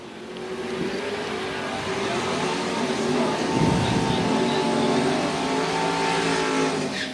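Drag-race launch of a Ford Mustang in the left lane and a Chevy Nova in the right lane at an IHRA team finals night race, a loud sustained engine roar swelling and holding at full volume with no talk.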